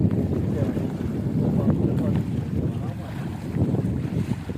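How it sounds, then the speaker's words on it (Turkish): Steady light wind buffets the microphone in a low, continuous rumble at an autumn tent campsite by the water, with water and boat noise mixed in outdoors. "Hafif de rüzgar var."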